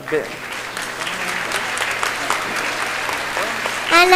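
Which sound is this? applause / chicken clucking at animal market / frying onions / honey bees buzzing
applause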